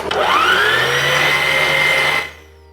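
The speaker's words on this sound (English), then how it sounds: "I sprinkle it all over and start whipping." An electric mixer whips egg whites with sugar for licorice meringues, a steady loud whirring drone with rising pitch at the start that runs for about two seconds and then cuts off abruptly.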